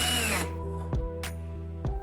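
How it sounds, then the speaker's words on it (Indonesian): An electric drill whirs steadily while twisting the end of an electrical cable clamped in its chuck. The motor hums close up, and a few short clicks and knocks break into it. "Jepit ujung kabel pada kepala bor."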